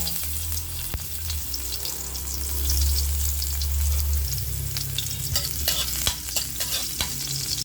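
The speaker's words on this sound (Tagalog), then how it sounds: "Gisa-gisa lang po" Garlic sautéing in hot cooking oil for a chicken curry, a steady close sizzle with low rumbling and scattered stirring scrapes, swelling slightly midway; no talking.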